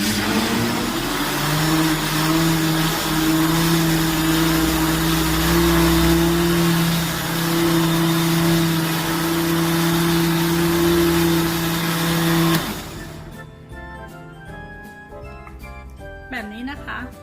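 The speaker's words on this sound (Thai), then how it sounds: "แล้วก็ปั่นนะคะ" An electric blender whirs steadily as it blends Thai tea powder for snowflake Thai tea, a loud continuous motor drone that cuts off abruptly near the end, leaving quieter clatter.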